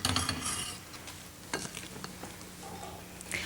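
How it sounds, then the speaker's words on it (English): Warm corn stirred around in a pan with a utensil, soft scraping and light clinks over a faint sizzle, with a few sharper knocks against the pan. "we'll just stir it up in here"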